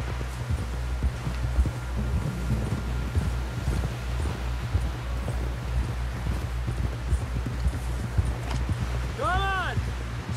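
Horse hooves clip-clop steadily in the video game Red Dead Redemption 2 as a rider travels, a regular rhythmic beat close by over wind and outdoor ambience, with a voice heard briefly.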